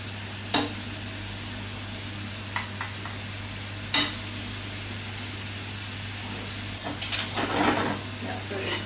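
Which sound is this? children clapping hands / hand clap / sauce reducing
sauce reducing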